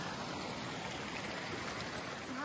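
A mountain stream serving as a water source beside a hiking trail in the San Juan Mountains, a steady close rushing gurgle of flowing water, even and continuous throughout, with no voices.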